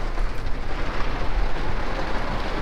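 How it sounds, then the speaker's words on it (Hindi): Heavy monsoon rain pours down in Jim Corbett forest, a dense, steady roar of hiss and patter, close and loud with no pauses. "बारिश भी तेज़ है"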